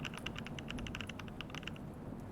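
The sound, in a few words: keyboard typing with Mech Vibes sound software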